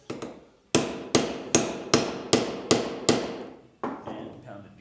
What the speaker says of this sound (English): And pound it down some more.